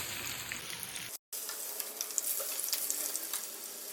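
Fish pieces frying in hot oil for a spicy fish fry, a steady broadband sizzle with crackling pops that briefly drops out near the start and then continues evenly, close and moderately loud.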